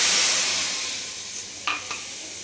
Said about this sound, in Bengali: ওর মাপে 1 কাপ জল দিচ্ছি